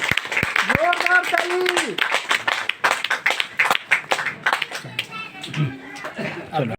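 Loud clapping from a gathering at a political party office, sharp dense claps ringing out in bursts alongside a voice and children's chatter.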